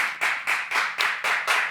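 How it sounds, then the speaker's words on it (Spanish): A few people clap in a short, strong rhythmic burst at the close of a Spanish-language faith program, seven crisp, evenly spaced claps, close and loud. "despedimos con este fuerte aplauso"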